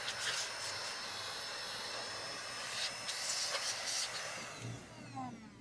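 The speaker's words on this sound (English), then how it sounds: "Handy dandy vacuum and blower." A handheld electric vacuum and blower running steadily with a loud, broadband whooshing hiss, its airflow tone shifting slightly as it is moved about during a 3D printer hotend job.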